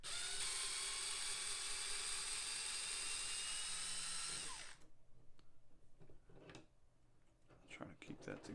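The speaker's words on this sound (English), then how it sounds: "we're going to take these two screws out of the back here." A power drill whines loudly and continuously while backing screws out of the shock tower on a Traxxas Bandit VXL RC car, then stops abruptly, leaving small handling clicks and rustles.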